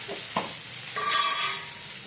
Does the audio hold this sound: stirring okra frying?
yes